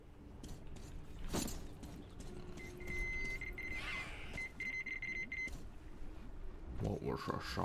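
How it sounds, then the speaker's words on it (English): Beeping from a device in Metro Exodus, a steady electronic tone repeating amid footsteps and ambient game noise, with a voice talking over parts of it. "I hear beep, I'm excited!"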